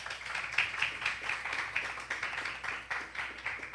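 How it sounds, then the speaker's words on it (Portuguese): A church congregation gives a round of applause to Jesus during a family service, a continuous rhythmic patter of many hands clapping, moderate and steady with faint pulses, no talk over it. "Você pode dar uma salva de palmas a Jesus"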